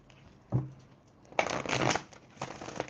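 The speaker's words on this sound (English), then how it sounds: "Let me do an oracle card and see what comes up." Oracle cards being shuffled at a tarot reading, in three quiet, separate bursts of riffling and sliding with short pauses between, with no talk.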